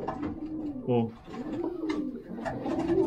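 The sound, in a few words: pigeon cooing while held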